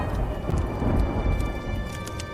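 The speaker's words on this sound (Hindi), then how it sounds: "आसमान में काले बादल छा जाते हैं और जोर जोर से" Rain hisses steadily over a low rolling rumble of thunder in a story sound effect, a continuous wash with no voices.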